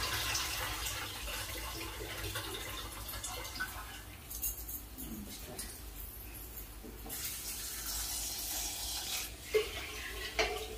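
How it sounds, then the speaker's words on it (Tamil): Water pours and splashes into a Pongal cooking pot, a continuous running trickle with small clinks and stirring sounds, fairly close and steady for several seconds. "அதுக்கப்புறம் கொஞ்சம் தண்ணி ஊற்றி பாத்திரத்தில் சேர்த்துக்கலாம் பொங்கல் பானையில்"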